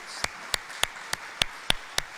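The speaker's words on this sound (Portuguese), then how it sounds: "Vamos dar uma salva de palmas a Jesus, né, por isso." Slow, evenly spaced claps ring out in a church service, about seven sharp hand claps in a steady rhythm over a quiet background.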